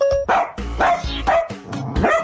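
A dog named Stanley barks about five times in quick succession, loud and close, with short gaps between the sharp woofs.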